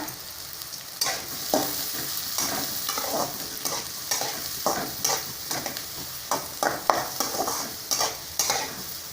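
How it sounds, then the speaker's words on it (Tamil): Sliced large onions with mustard seeds and cumin sauté in hot oil under a soft, steady sizzle, punctuated by repeated scraping and clinking strokes of a spatula stirring the pan. "இப்போ நல்லா வணக்கி விடுங்க."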